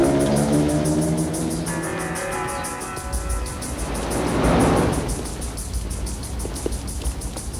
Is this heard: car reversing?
yes